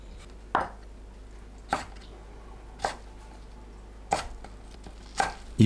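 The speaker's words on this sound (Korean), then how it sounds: "두꺼운 줄기는 반으로 가르고 4cm 길이로 썰어주세요" A knife chops thick vegetable stems into 4 cm lengths on a cutting board. Five sharp, separate knocks land about a second apart against a quiet kitchen background.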